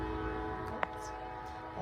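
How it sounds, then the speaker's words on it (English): A nearby train rolls past, its horn sounding one long, steady, droning blast over the rumble of the rail cars, with a single sharp click midway. "As usual, a train comes by whenever I'm"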